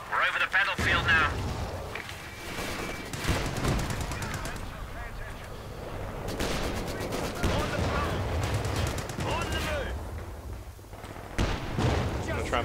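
Machine gun fire in Company of Heroes 2 battle, several rapid bursts with loud gunfire and explosions layered through the scene, voices shouting over the din.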